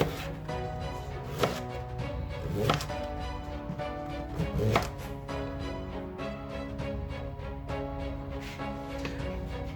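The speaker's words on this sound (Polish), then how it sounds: "Więc seller kroimy w drobną kostkę" A knife dices celery into small cubes on a cutting board, a few distinct chopping knocks among quieter cutting sounds over a steady background hum.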